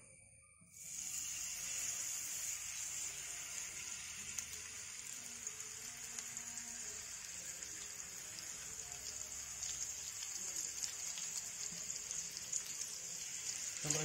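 Whole aral fish (spiny eel) hit hot oil in a pan and set off a sudden burst of dense, crackling sizzle. The sizzle holds steady and close throughout, spattering like rain on a surface.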